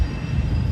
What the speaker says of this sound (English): This other train pulled down.